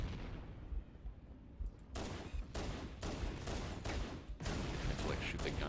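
Gunfire in Halo: Combat Evolved, rapid repeated shots in bursts over constant background game noise and music, loud and close, continuing throughout.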